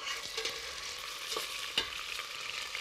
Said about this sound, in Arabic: وحمر اللحم